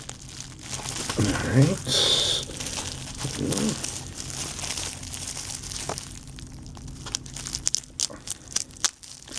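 Tape being cut and peeled off a PEZ dispenser package, crinkling and crackling plastic with a brief scissor snip and a run of small tearing ticks near the end, close up, with short spoken words in between.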